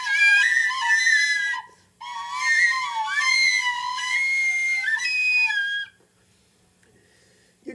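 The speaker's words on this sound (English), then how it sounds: "they're called penny whistles" A penny whistle plays a short melody of clear, bright sustained notes, close and loud, pausing briefly before a second phrase, then falling silent.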